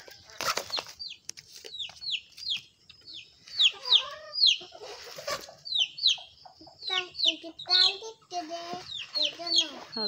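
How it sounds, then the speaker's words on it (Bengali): Several chickens cluck and chirp in a busy, overlapping chorus, drawing near one after another, with a few brief wing flaps and clatters early on. "সব মুরগি আস্তে আস্তে আইতেছে।"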